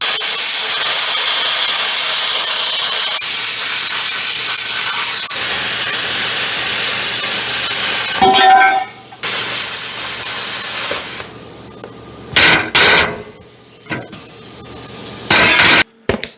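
A metal piece is cut for a patch on a rusty car, a loud continuous hissing, grinding cut running about eight seconds, then several shorter bursts separated by quieter gaps.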